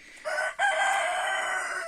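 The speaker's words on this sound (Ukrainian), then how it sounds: "Десь ще одна ходить квочка зі своїми курчатами." A hen with her chicks on a village farm, heard as one loud, close, drawn-out chicken call that breaks briefly and then carries on alone.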